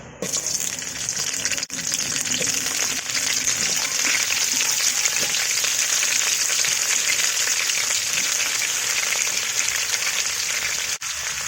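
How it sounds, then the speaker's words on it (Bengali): Cut cauliflower pieces frying in hot oil in a wok, giving a loud, even hiss that carries on steadily for several seconds, with a brief clatter near the start and near the end and no talking. "ফুলকপি আগে ভেজে নিব, তেলটা গরম হয়ে গেছে, দিয়ে দিব কেটে রাখা ফুলকপি"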